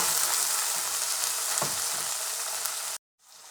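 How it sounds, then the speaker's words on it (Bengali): Chopped onions and tomatoes sizzle steadily in a hot pan, a loud continuous frying hiss that cuts off abruptly near the end and then faintly resumes. "টমেটোটাও এক দু মিনিট পেঁয়াজের সাথে একটু ভেজে নিব"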